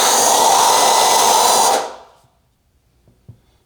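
WOLFBOX air duster blowing dust off a dusty PC case, a loud, steady high-pitched motorized whoosh for nearly two seconds that winds down to silence, followed by a faint tap.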